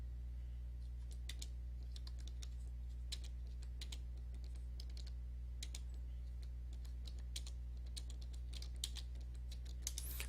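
Computer keyboard typing during an online game session, a steady run of quick key clicks over a constant low hum, fairly close and moderately loud, with no talking.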